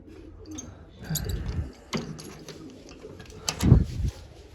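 Domestic pigeons from a flock of dozens coo nearby, several soft, low throaty calls rising and fading in a loose sequence over quiet background rustle.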